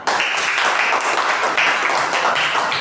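Students in a classroom applaud together, a dense burst of clapping that fills the room at close range and holds steady for a few seconds with no talk over it.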